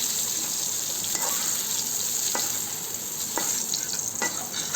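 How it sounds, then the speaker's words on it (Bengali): Pointed gourds fry in oil in a wok with a dense, close, continuous sizzle and hiss, broken by a few faint soft clicks as pieces are lifted out. "এই তো আমার পটলগুলো ভাজা হয়ে গিয়েছে। এখন আমি পটলগুলো একে একে তেল থেকে তুলে নিলাম।"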